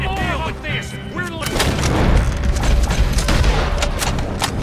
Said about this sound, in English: that was like low key unnecessary to shoot him twice